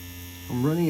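A tattoo machine fitted with an InkClaw Phoenix 2.0 grip, running at 8 volts, starts with a steady electric hum that rises in pitch as it spins up, close and alone.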